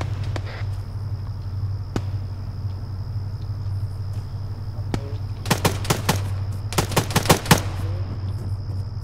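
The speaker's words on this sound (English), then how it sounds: "The mounted weapon." Mounted weapon firing in the video game ArmA 3, a few scattered single shots followed by two loud rapid bursts of automatic fire, set over a constant low engine rumble.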